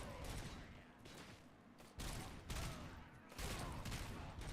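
Rapid bursts of Auto 9 pistol gunfire in Robocop: Rogue City, three loud volleys of sharp repeated shots separated by brief lulls, with a voice faintly in the background.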